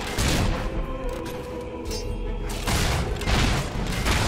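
Gunfire in the video game Fable 3 during a battle, with loud booming volleys and shots in bursts, heavier at the start and again later, over a continuous rumbling background.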